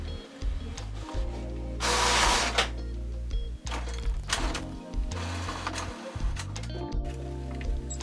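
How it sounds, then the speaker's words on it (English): A Canon MAXIFY inkjet printer runs its print head alignment, with whirring carriage motor passes, clicks and a louder mechanical sweep, close and continuous without speech. "the print head alignment will finish in about a minute."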